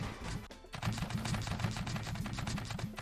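Tape guns in the Scrap Mechanic video game fire at farm bots, a fast, unbroken stream of clicking shots rattling on at a steady pace over a busy game background.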